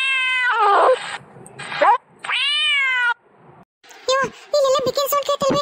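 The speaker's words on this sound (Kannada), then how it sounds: "ಇಲ್ಲೆಲ್ಲ ಬೆಕ್ಕಿನ ಸೌಂಡ್ ಕೇಳ್ತಲ್ವಿ" A cat meows several times at close range in drawn-out, wailing cries with rising and falling pitch, ending in a quicker run of shorter calls.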